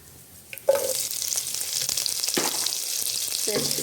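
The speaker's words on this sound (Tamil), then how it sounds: "இதோடு நம்ம எடுத்து வச்சுருந்த புளி மூண்டையும் சேர்த்துருவோம் இதை வதக்கி விடுவோம்" Onions and tamarind sauté in a hot pan for a soy meat curry, a steady close sizzle and frying crackle with occasional stirring scrapes.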